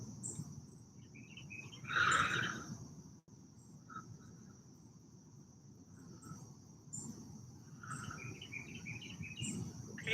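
Birds chirp outdoors in short, shrill bursts, loudest in one sharp flurry near the start, then scattered lighter calls over a steady, faint insect-like hum.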